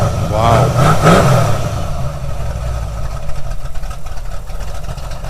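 A 2021 Ford Bronco revs with its exhaust cutout open, a deep rumbling roar that surges early and then settles into a steady idle, heard nearby outdoors while people talk.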